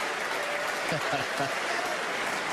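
Snooker crowd at the 2018 Masters applauding a pot, a steady wash of clapping that fills the whole moment at moderate loudness.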